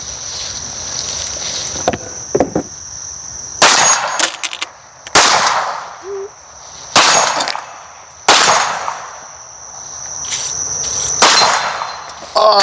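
A Staccato pistol fires five-plus sharp, loud reports at steel targets 30 yards away, spaced irregularly a second or two apart, over a steady outdoor insect drone.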